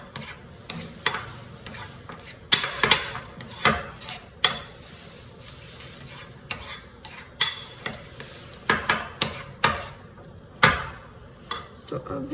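A spoon stirring shrikhand in a bowl makes repeated scraping clinks against the dish in an irregular rhythm, close and fairly loud, with quiet gaps between strokes.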